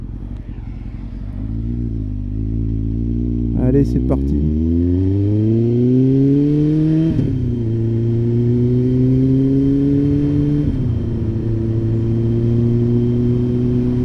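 A small motorcycle rides along a rural road near Saint-Pierre-sur-Dives, its engine droning steadily and rising in pitch through the gears, loud and close, with someone speaking briefly over it.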